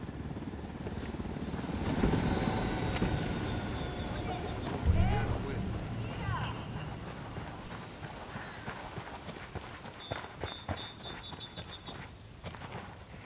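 A helicopter in the open-world shooter Ghost Recon Wildlands gives a steady rotor thrum and engine whine, swelling and fading over about thirteen seconds while a voice talks over it.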